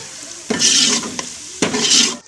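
Turmeric is stirred into a hot cooking pan, with two loud, close bursts of sizzling and scraping as the spoon works through the mixture, separated by a brief lull.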